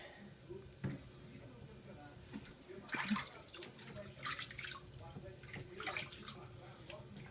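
Water splashes and trickles during a small child's bath, with irregular bursts of running water and drips close by, partly under the talk of an adult and a child.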